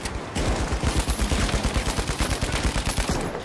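Rapid automatic gunfire from The Finals video game, a loud continuous burst of rattling shots with a steady fast rhythm that runs almost the whole time, with no talking over it.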